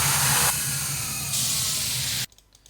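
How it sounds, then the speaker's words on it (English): A synth sweep used as a transition in an electronic music production sketch, a loud hissing noise wash over a low pulsing bass that shifts brightness partway through, then cuts off abruptly into near silence. "So here we have some sweeps for the transition"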